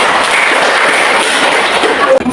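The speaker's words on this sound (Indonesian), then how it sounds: "Oke, tepuk tangan sekali lagi." A classroom of students applauds together in a brief, dense burst of clapping that stays loud and even before cutting off abruptly at the end.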